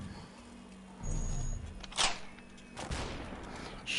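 Gunshots in the VR shooter Superhot VR: two sharp cracks about a second apart over a steady low game hum, close and punchy.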